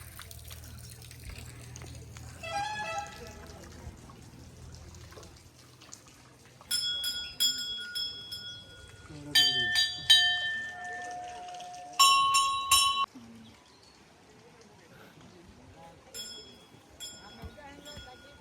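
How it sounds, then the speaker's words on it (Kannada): A temple bell at a Karnataka temple is rung in several clanging bursts of repeated bright strikes, each ringing out before fading, with soft voices and trickling water in the background. "ನೋಡ್ತಾಳೆ ಗಂಟೆ ಹೊಡೆಯೋದು"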